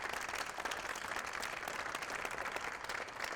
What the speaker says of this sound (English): how about a round of applause for this crew